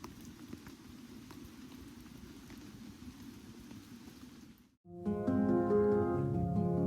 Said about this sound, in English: so maybe you can hear the rain.